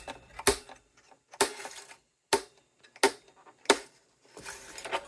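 Guitar strings being snipped off a Gretsch Streamliner with cutters, five or six sharp metallic clips spaced about a second apart, each followed by a brief ringing rattle, close and clear with no voices.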